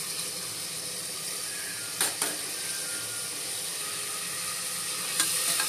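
Mustard seeds, garlic and curry leaves frying in hot oil, with a steady close sizzle throughout and a few brief sharp crackles and pops, and no talk.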